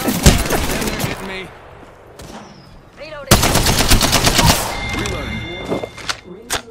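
Rapid gunfire bursts in the Apex Legends video game crack out between quieter stretches, loud and close, while in-game character voices speak over parts of the action.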